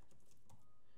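Quick keystrokes on a computer keyboard as a URL is entered into a browser, a short, faint burst of close clicks with no talking.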